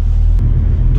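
Volkswagen Golf 4 R32 from 2002, its 241-horsepower engine giving a loud, close, deep rumble in a short continuous burst.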